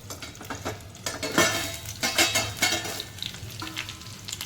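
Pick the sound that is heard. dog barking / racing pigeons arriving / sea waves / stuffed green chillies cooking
stuffed green chillies cooking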